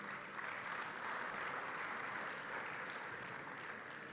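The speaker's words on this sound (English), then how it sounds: "A big, big, big round of applause to such a fantastic panel" A conference audience applauds a panel at a closing ceremony, the steady clapping continuing evenly throughout at a moderate, somewhat distant level.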